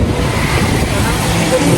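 An auto rickshaw's small engine drones steadily and loudly throughout, a constant rumbling hum as the vehicle moves, in India.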